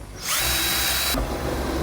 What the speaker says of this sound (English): So for this kind of work, a Christmas tree bit is great. It really makes it easy to drill out these holes